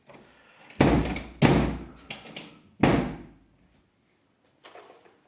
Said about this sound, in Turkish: çek şu kapıyı